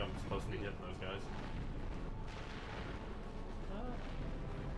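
Bombs dropped from ships burst in the video game Ratchet and Clank, giving heavy, rumbling booms and crackling blasts over a dense battle din while voices talk throughout.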